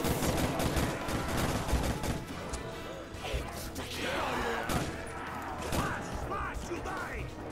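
Gunfire rattles in repeated bursts while zombies are shot in Nacht Der Untoten, with thuds and mechanical clicks, steady and close, and voices chattering over the shooting.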